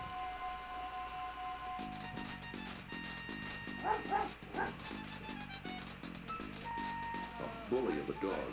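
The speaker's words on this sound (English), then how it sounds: "A bully of a dog terrorizes the poor ants as he playfully digs at their large anthill." A cartoon dog in King's Quest 5 digs at a large anthill, giving out repeated short yips and barks over a steady backing melody.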